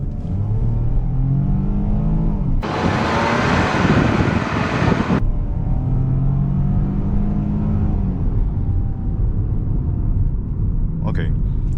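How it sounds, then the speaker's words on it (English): A 2024 Ford Escape ST Line accelerates hard with a steady engine drone that rises in pitch. A loud burst of broadband roar in the middle drops back to the running engine, heard from inside the cabin. "we're gonna try one more acceleration to give me one last final taste"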